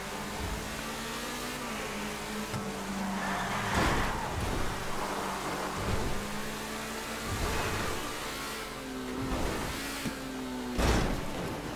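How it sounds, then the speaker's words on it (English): Rain hisses steadily in the video game GTA V while low rumbles and thudding booms of thunder roll in at intervals. "Why is it fucking raining for?"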